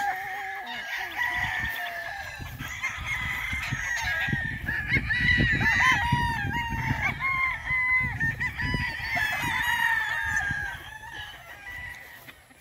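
White Kelso Cross gamefowl roosters crow loudly and continuously at a gamefarm, several birds overlapping with clucks between calls, close by and without speech.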